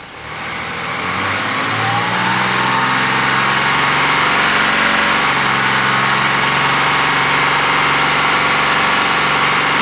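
A 2008 BMW X3 3.0 diesel with a lit battery warning light runs held above 2,500 RPM, its engine droning steadily and loudly at close range after a brief rise in revs at the start.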